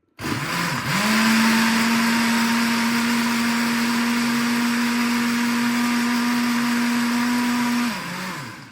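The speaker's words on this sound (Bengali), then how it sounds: "তো এখন আমি এগুলারে ব্লেন্ড করে নিই। দেখি বিসমিল্লাহ করে নতুন ব্লেন্ডার" A new blender making a Kinder Bueno milkshake starts up, whirs at a loud, steady high pitch for several seconds, then winds down.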